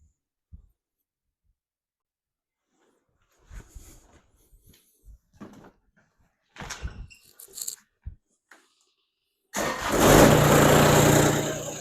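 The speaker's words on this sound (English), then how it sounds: "I'm going to start the tractor and raise that up all the way" Scattered clanks and handling noises give way to a Kubota BX2360 compact tractor engine cranking and catching, then running loud and steady.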